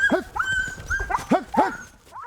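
Working sled dogs of an Arctic team bark, yip and whimper in quick bursts, close and fairly loud against wind and outdoor noise.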